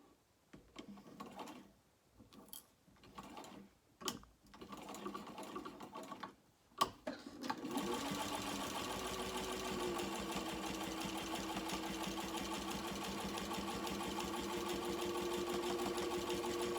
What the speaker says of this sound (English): now I'm going to sew those on with a 3/8 seam allowance